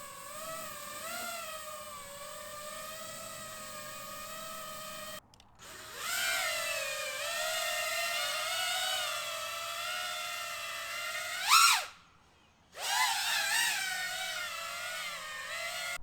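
A 3D printed 5-inch Venn CineWhoop drone with overlapping propellers flies nearby, giving a steady high whine with shifting pitch. It cuts out briefly twice, with a sharp rising whirr before the second gap.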